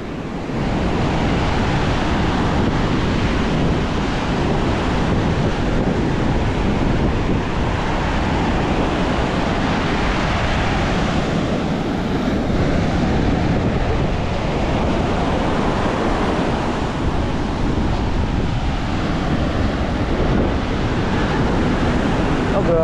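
Monsoon floodwater from a swollen river rushes past with wind, a dense unbroken roar of churning water and gusts, loud and close, holding steady throughout with no letup.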